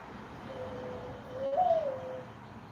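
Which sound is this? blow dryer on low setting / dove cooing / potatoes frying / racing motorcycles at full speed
dove cooing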